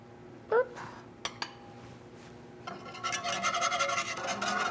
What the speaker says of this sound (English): Then just whisk until smooth.